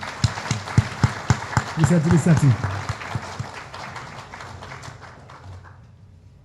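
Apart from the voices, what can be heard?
audience applause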